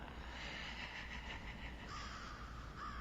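A crow animatronic from Spirit Halloween's 2022 line gives repeated raspy caws over a constant loud electronic hiss and low rumble, each call blending into the noisy background.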